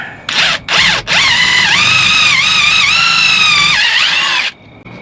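A power drill driving old screws into wood whirs in two short bursts, then runs in one long sustained whine, its pitch sagging and recovering as it bites, close and loud.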